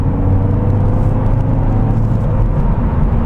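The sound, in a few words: 2016 Volvo V40 D2 car accelerating from third gear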